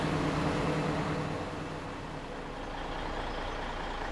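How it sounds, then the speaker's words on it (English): A truck in Farming Simulator 17 reverses with a steady tonal beeping over a low engine rumble. The beeps are strongest at the start, then thin out while the engine drone continues. "Let's move the truck here a little bit."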